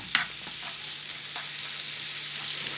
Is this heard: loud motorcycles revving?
no